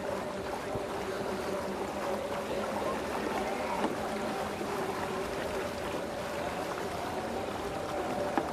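A waka ama outrigger canoe is paddled at a sprint nationals race, with a steady wash of water and wind against a continuous background of distant crowd noise and occasional faint talk.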